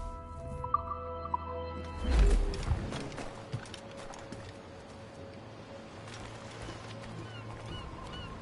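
Birds honking in a PS4 video game, a brief loud burst of goose-like honks around the middle over a steady ambient game background with low hum and faint chatter-like texture.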